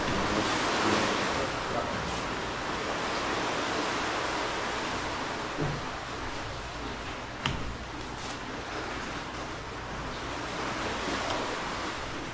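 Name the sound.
calm sea waves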